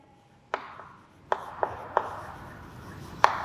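A teacher writing an equation during a math lesson, heard as a handful of sharp, separate taps and scratches of the writing tool on a board, spaced irregularly over a few seconds with no talk.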